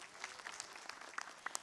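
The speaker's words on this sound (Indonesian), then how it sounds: "Boleh tepuk tangannya Bu?" Light applause from a small audience at an Islamic talk show, soft and distant, with a few sharper claps standing out over steady faint patter.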